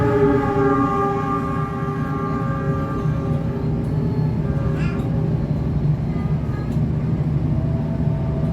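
Argo Wilis passenger train passing a waiting Pangandaran train on Indonesia's southern line, a steady loud rolling rumble with sustained horn-like tonal drones running throughout, close by.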